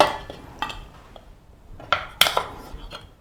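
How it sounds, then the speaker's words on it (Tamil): A metal cooking pot is handled in a home kitchen while crab gravy is being prepared, giving a few sharp, separate clanks and clinks over a quiet background. "இந்தா, இதுக்கு ஒரு பாத்திரம்."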